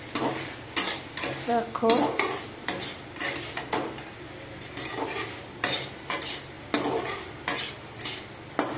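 Okra with black cumin being stirred in a frying pan, a spatula scraping and clinking against the metal in repeated strokes over a steady close sizzle, with a brief spoken word.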